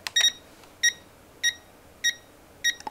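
An electronic device beeps five times at an even, steady pace, each beep short and high-pitched over a quiet background.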